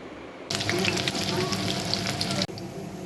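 Steady, close sizzling of onions frying golden brown in hot oil for biryani starts abruptly and bubbles continuously for a couple of seconds before cutting off.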